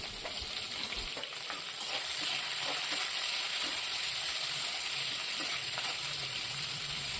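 Sliced big onions sauté in hot oil with cardamom, cinnamon and cloves for a spicy mutton lung pirattal, giving a steady, even sizzle with soft crackles throughout and no voices.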